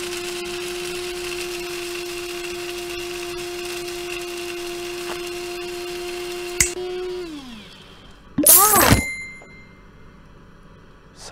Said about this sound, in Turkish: Hadi blender lan, döndürek.